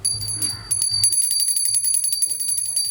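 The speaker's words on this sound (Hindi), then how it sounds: "एक बार घंटी बजा दीजिए।" A small bell rings rapidly and continuously in quick, bright strikes, with people talking over it nearby.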